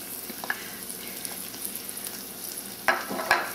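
Two tablespoons of vegan margarine melt in a pan alongside tender garlic, giving a steady close sizzle and crackle with a few louder spits and scrapes near the end, no voices.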